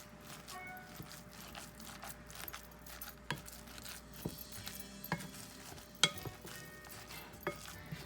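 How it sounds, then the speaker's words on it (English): A spoon stirs crab cake mixture in a bowl, giving soft, wet squelching with faint scraping and light clinks at an uneven pace, quiet and close, with no voices. "Make sure it gets combined all the way through."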